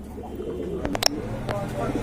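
A pair of shocking-red pigeons at a seller's coo softly and close by. Some brief sharp knocks and rustles break in partway through.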